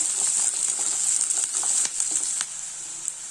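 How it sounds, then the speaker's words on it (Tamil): Onion and twenty garlic cloves sauté in oil, giving a bright, continuous sizzle with occasional scraping stirs and light clicks, close by, easing slightly toward the end. "நான் ஒரு 20 பல் பூண்டு பக்கம் போட்டிருக்கிறேன். இதையும் நல்லா வதக்கிக்கலாம்."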